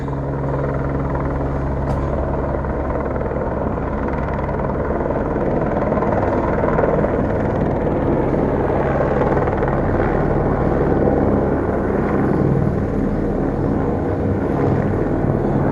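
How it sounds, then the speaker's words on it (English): A helicopter hovers in gusty wind, its rotor and engine a loud, steady, continuous roar from start to finish. "because he's having trouble stabilizing the helicopter."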